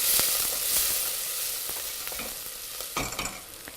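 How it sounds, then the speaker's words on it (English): Food for Iranian qaliyeh ye meygoo, a shrimp dish, is stirred as it fries in a pan. A constant close sizzle runs under scraping and clattering stirring strokes, louder near the end, with no talking. "we're just gonna stir it for 2 minutes."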